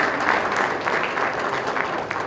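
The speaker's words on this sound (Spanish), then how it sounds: "Guerrero, presidente municipal de Querétaro, para el cual pido un aplauso." An audience at a smart-cities panel at a mayors' forum applauds steadily, a dense, even clatter of clapping hands throughout with no pause.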